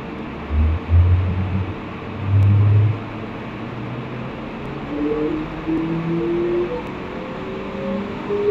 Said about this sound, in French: la voiture a la santé, elle monte dans les tours